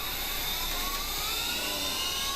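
A milling machine cuts metal with a carbide end mill, giving a loud continuous high-pitched whine and steady rushing noise that holds without a break.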